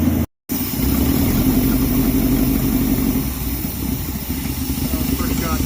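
A 1968 Dodge W200 Power Wagon's engine idles steadily with a low rumble, with an exhaust leak noted, holding an even level apart from a brief dropout near the start, with speech also present.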